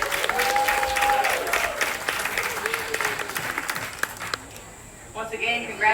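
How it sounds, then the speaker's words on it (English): A crowd claps for junior girls who showed goats in a 4-H Clover Buds class at a livestock show. The applause is steady and dense, tapers off, and people speak over it near the end. "We're going to give one more round of applause for these junior girls."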